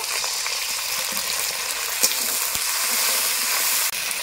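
Onion and garlic frying in a pan with ginger paste and a splash of water added, producing a strong, continuous sizzle and hiss, close by, with a small clink near the end and no talk.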